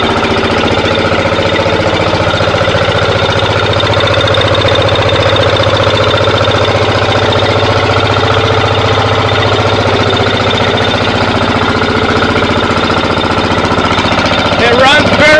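A Yanmar diesel engine running steadily up close, with a loud, constant knocking drone throughout and a brief rattle near the end.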